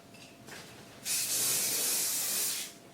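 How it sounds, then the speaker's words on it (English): Got2b Oil Luscious weightless dry oil mist with argan oil sprays onto a hair weave in one sustained, close hiss lasting about a second and a half, following a brief faint puff. "Just going to give it a little spray just to make it that little bit more luscious."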